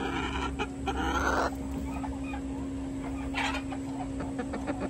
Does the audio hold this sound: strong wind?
no